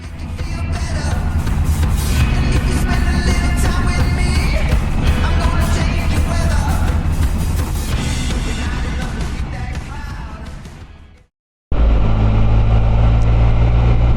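A 2022 Can-Am Spyder RTL three-wheeled motorcycle engine rumbles loud and steady as the ride gets under way, a deep continuous drone with wind, briefly cutting out before resuming at full strength.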